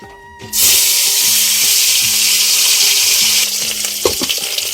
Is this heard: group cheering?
no